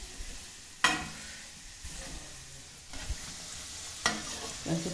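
Litti cooking over a fire while being turned, a soft sizzle and crackle with a few sharp scraping clicks as the pieces are flipped, close and quiet, with no talk.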